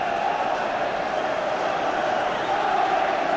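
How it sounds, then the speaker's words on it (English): Large football stadium crowd at Aston Villa vs Wigan Athletic roaring in a sustained, loud cheer that fills the whole moment without pause. "It's almost the biggest cheer of the afternoon."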